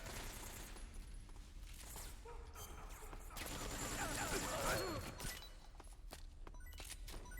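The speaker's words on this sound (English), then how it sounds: "AK-47 headshots is art" Distant gunfire in Metal Gear Online on the Kill House A map, scattered shots and crackling fire under a busy, noisy game backdrop, fairly faint overall.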